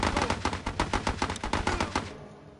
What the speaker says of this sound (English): Get a couple of shots off with a sniper